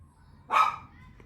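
A single sharp dog bark, fairly close and loud, rising out of a quiet background with a faint low hum.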